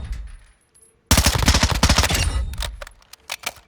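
Rapid burst-fire gun shots from Call of Duty, a loud dense volley of quick cracks lasting about a second and a half, followed by a few separate shorter bursts.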